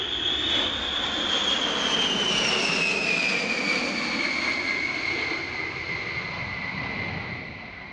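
Sally B, a B-17 bomber, flies past at Duxford, a loud, steady piston-engine drone with a slowly falling whine as she passes near, easing off toward the end.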